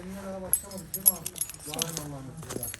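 Car keys jangling and clinking close by, a light metallic rattle running throughout under a voice speaking Turkish.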